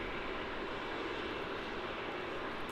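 Airplane on the runway at Melbourne Airport, a steady broadband engine roar at moderate distance that holds unchanged through the brief moment.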